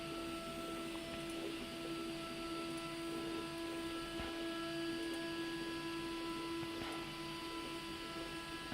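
A Shepoko 5 Pro printer runs steadily at low level, giving a constant mechanical hum with sustained tonal whine and occasional faint clicks, with no talking.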